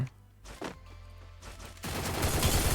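Gunfire in the Free Fire video game: a few sharp shots early on, then a loud, dense burst of rapid fire filling the last second, with no talking.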